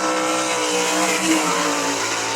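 Sprint cars race around the I-96 Speedway oval, a loud sustained engine roar with steady high-pitched whine, close and continuous with no talk over it.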